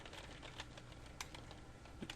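Quiet, fast typing on a computer keyboard, with a steady run of light key clicks and a couple of slightly sharper taps, close up and without talk.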